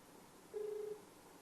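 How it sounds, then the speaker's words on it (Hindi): A single steady telephone ring-back tone sounds alone for under half a second as a call is placed, faint and clear over a quiet background hiss. "ज्योति मौर्य का हमने कॉल लगाया है"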